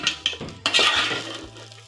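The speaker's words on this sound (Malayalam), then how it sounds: "പിന്നെ എന്നിട്ട് നമുക്കൊന്ന് ഇളക്കി കൊടുക്കാം" Metal spoon scrapes and clinks against a pan while masala for tomato rice is stirred, with a few sharp knocks and a steady scraping swirl, close and clear.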